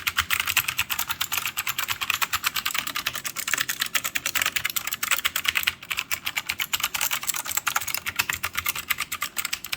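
Steady, rapid typing on an NPET K61 mechanical gaming keyboard: dense, clattery key clicks in a continuous stream for nearly ten seconds, close and alone with no talk.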